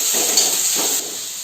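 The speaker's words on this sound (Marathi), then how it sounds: "कांदा चांगला लाल होईपर्यंत फ्राय करायचा आहे" Onions frying in a kadai as they brown for an egg korma curry, a close steady sizzle with a brief stir midway before the hiss softens slightly.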